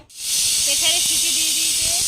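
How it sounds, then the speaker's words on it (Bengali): A pressure cooker on a home kitchen stove lets out a loud, steady steam whistle, a broad hiss holding the whole time with a faint wavering tone under it. "প্রেসারে সিটি দিয়ে দিয়েছে।"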